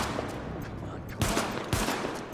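Pistol fire in The Division video game, two sharp loud shots about half a second apart over dense game ambience.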